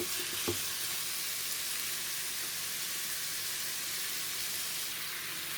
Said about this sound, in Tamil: அடுப்பில் சட்டியை வச்சு கொஞ்சமாக ஆயில் சேர்த்துக்கொண்டு இந்த வெட்டி வச்சுருக்கிற சிக்கனை ஃப்ரை பண்ணுவோம்